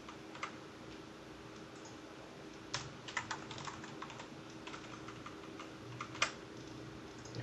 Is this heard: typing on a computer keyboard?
yes